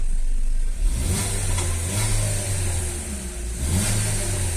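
Gasoline-fuelled engine of a Chevrolet Onix Prisma with automatic transmission revving up and settling back, close and steady, with no talk over it.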